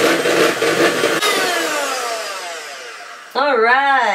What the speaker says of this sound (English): Just keep whisking that until it's stiff.